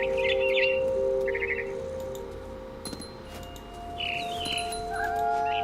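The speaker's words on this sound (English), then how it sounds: "Am I trying to catch and eat the barn swallow?" Barn swallow in the video game What Remains of Edith Finch, giving several short, bright chirps and twittering calls at close range over a steady ambient hum, with no talking.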